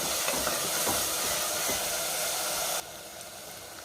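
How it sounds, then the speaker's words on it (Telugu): Coarsely pounded onions fry in hot oil for a chicken curry, a dense, continuous close hiss that holds steady for nearly three seconds, then drops abruptly to a quieter sizzle, with no talking. "బాగా ఎర్రగా వేగాలి. ఎర్రగా వేగితేనే ఉల్లిపాయ బాగుంటుంది అన్నమాట."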